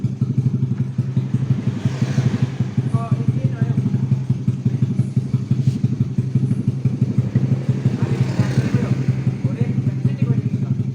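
A small agricultural sprayer engine that won't rev up runs close and loud at a steady, unchanging pace, with a rough clattering pulse and no rise in speed across the whole stretch.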